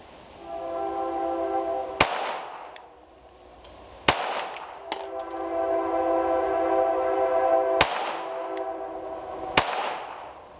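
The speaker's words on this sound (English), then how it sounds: "the flat shooting is incredible on this gun" Sharp single shots from a Taurus TX22 .22LR pistol at an outdoor range, four spaced cracks cutting through a loud, steady horn-like drone that fills the background.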